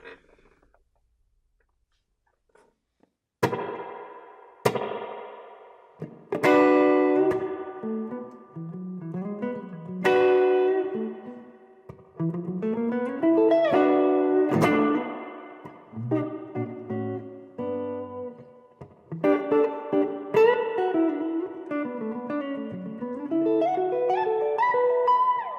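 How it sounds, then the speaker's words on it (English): An electric guitar is played through a Boss RV-6 pedal set to spring reverb, with single notes and chords ringing out and trailing off in washy decay after a brief silent start. "So here we go with the Spring reverb sound."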